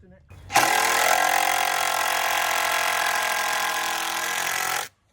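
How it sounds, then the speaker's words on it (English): A powered auger drills holes into heavy gumbo soil for pillars, its engine roaring loud and steady for several seconds before cutting off abruptly, with no talk over it. "An auger is used to drill the hole"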